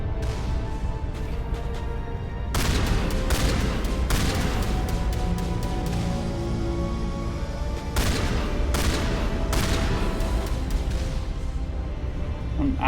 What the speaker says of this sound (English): Tali's just going after it with a pistol.